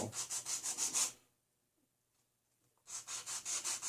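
Serrated metal tweezer tips sharpened against an abrasive, a quiet, regular back-and-forth rasping of about six quick strokes, then a pause of nearly two seconds before the rhythmic strokes resume.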